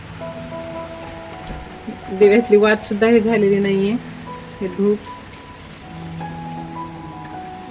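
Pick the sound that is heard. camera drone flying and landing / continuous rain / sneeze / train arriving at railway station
continuous rain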